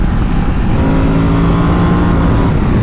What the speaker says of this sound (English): Oh, that L-twin is addicting. Ooh, that sounds so nice.